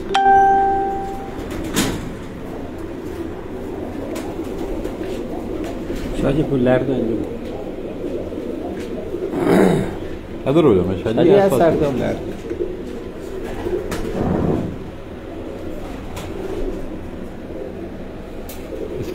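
Breeder pigeons coo in soft, intermittent bursts on a rooftop loft, someone talking over them throughout, with occasional clinks and brief tonal sounds in the background.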